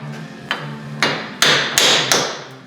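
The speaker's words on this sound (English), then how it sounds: "You just want to strike the bearing itself." A hammer drives a wheel bearing out of the hub housing on a Grand Am, five loud, close metallic strikes about half a second apart, each ringing briefly before the next blow.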